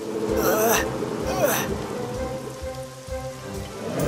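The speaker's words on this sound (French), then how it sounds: "il commence à pleuvoir" Steady rain patters down during an animated children's toy-car race, a loud wash of drops with a few soft vocal gasps over it.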